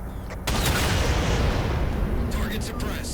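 Railgun fired in the video game Halo 4, a heavy booming blast that erupts suddenly and rumbles on for a few seconds, with a faint electronic whine and a voice briefly under it.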